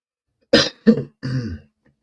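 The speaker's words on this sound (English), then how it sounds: "I got a bit of a cough." Three close coughing bursts, the last one longer and rougher, like clearing the throat, loud and near with silence around them.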